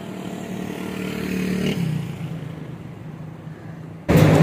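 A car engine hums steadily from inside the cabin while driving, fading slightly before a sudden louder rush of noise near the end.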